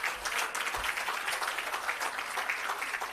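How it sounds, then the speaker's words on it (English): Sustained audience applause fills the air at the official opening of an agro park, a dense, even wash of many hands clapping at moderate volume with no pauses. "Please give her another round of applause."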